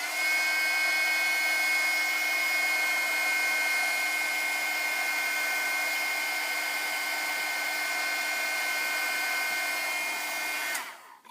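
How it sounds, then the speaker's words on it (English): A heat gun warming craft foam blows a loud, steady whining hum for about eleven seconds before it switches off abruptly. "I'm thinking I'm going to heat up this foam"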